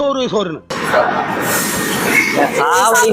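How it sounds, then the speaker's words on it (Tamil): A passenger train leaves a railway station in Chennai, rumbling and rattling steadily with wheel noise, while people talk nearby at the start and end. "ட்ரெயின் கிளம்பிடுச்சு"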